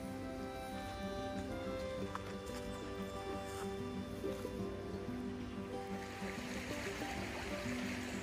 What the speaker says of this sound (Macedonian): Ева сега сме покрај реката Тополка, која што тече во близина на моето еколошко село